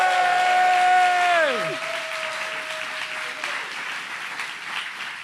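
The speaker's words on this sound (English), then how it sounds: "let's all give our entrepreneurs another massive round of applause" Audience applause for entrepreneurs at a startup pitch event, a broad wash of clapping that starts loud, dips after a couple of seconds and carries on steadily, with an electronic tone sweeping down early on.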